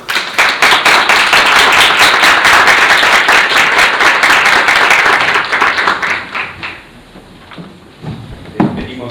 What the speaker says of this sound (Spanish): Despedimos con un fuerte aplauso